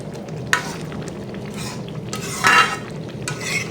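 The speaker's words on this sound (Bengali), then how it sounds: "দেখুন, আরও কিছুক্ষণ নাড়িয়ে দিতে হবে, না হলে ডালটা নিচে লেগে যেতে পারে।" A lentil-thickened pointed gourd curry is stirred in a pan, with a soft bubbling simmer underneath and a few brief louder scraping strokes of the spoon.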